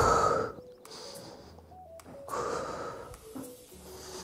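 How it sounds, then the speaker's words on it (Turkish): Deep breaths in and out during an exercise workout, audible as close, breathy inhales and exhales in a slow rhythm with faint background tones. "derin al, ver"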